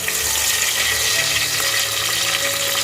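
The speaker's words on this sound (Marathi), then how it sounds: "आता लसणी टाकते फोडणी" Garlic frying in hot oil in a pot while tempering a crab curry, giving a steady, close, dense sizzle that holds at an even level throughout with no voices.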